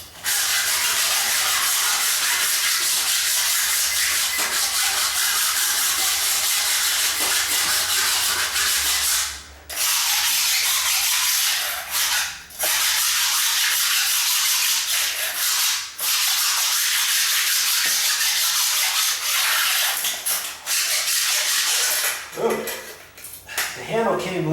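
A floor scraper grinds loudly across a floor in long continuous passes, broken by a few brief pauses, close and harsh with a hissing scrape.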